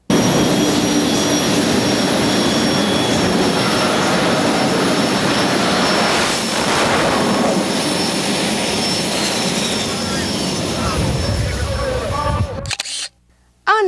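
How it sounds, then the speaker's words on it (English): Jet-powered funny car at a drag strip roaring with a loud, steady broadband jet blast for about twelve seconds, swelling briefly midway, then cutting off abruptly, with crowd noise under it. "it was time to see the cars we've been looking at in action, starting with Tom Brown's Jet Funny car"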